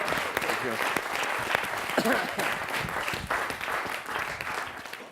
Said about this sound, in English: Congratulations, man. Big round of applause.